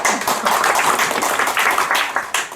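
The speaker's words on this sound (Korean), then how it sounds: "박수." A church congregation claps during a Sunday worship service, a dense, steady patter of many hands filling the room at a fairly strong, even level with no voices over it.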